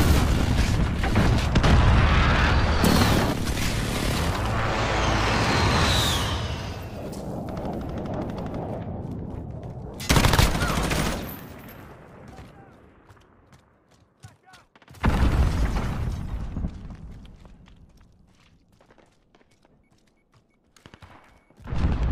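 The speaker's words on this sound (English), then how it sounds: "Airstrike incoming," An airstrike in Call of Duty Modern Warfare brings a long, rolling barrage of blasts and gunfire that fades, then returns as sudden loud explosions around ten and fifteen seconds and again at the very end, with voices heard in between.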